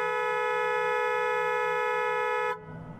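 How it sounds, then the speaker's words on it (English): A car horn sounds as an alert for a child left in a car seat, blaring as one loud, steady continuous tone for about two and a half seconds before cutting off abruptly. "a car alarm that will hopefully get someone's attention"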